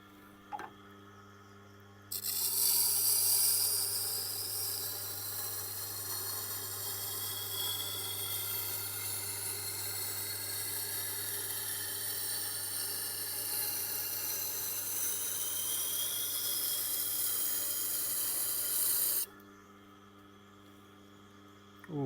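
A knife is sharpened on a Tormek wet grinding wheel. A steady whirring grind with a motor hum starts abruptly, holds for about seventeen seconds at an even level, then cuts off, with a quieter background hum before and after.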